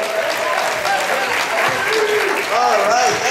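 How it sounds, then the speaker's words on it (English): A comedy-club audience breaks into a steady round of applause for a comedian, dense clapping held at an even level for a few seconds with a slight swell near the end. "Let's have a nice round of applause"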